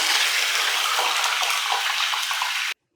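Curry leaves frying in hot oil for crispy cabbage 65, a loud, steady broadband sizzle and crackle running unbroken for nearly three seconds before cutting off abruptly.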